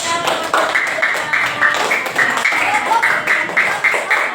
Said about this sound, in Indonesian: semuanya tepuk tangan dong